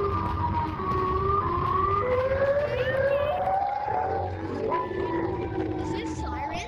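A siren in the video game Gorilla Tag wails continuously with slowly rising and falling tones that overlap and drift, holding a steady, moderately loud level throughout.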